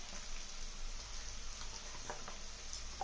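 Chili powder hitting hot oil while frying for a coconut-chili eggplant dish, a steady faint sizzle with scattered small pops and crackles, no talking.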